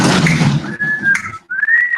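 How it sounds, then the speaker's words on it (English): Two people whistle a tune in a run of clear, sustained pure tones with a short break between phrases, loud and close, with murmuring voices faintly beneath at the start. "So they're whistling part of it."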